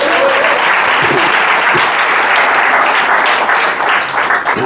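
Loud, sustained applause from a church congregation during a family worship service, dense clapping filling the space evenly from start to finish with no voices standing out.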